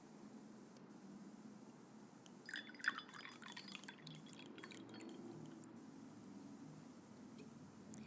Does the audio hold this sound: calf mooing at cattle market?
no